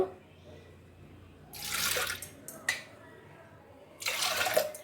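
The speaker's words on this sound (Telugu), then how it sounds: "మూడు కప్పులు వాటర్ పోస్తున్నాను" Three cups of water are poured into a pot of soaked lentils for a chili dal, heard as two short splashing pours separated by a brief pause, close and fairly quiet.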